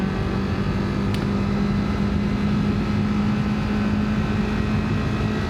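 A new 2025 Kawasaki Ninja 500 motorcycle drones steadily at speed on the freeway, a constant engine hum blended with road and wind noise, with no voices.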